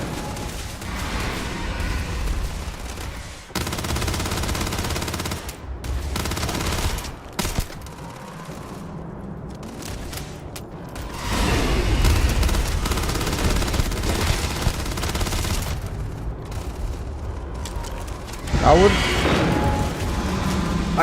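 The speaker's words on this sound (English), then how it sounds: "I do a lot of damage with the shotgun." Shotgun fire in Starfield, played on very hard difficulty, as repeated heavy blasts mixed with other gunfire and mechanical clatter over a long stretch. A voice talks throughout over the shooting.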